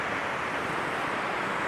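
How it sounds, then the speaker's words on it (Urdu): The Hermitage waterfall at Dunkeld, Scotland, gives a short, even roar of falling water that holds steady and fills the scene, with no voices. "اس کی آواز جو گرنے کی، پانی کے گرنے کی آواز ہے وہ اچھی خاصی ہے۔"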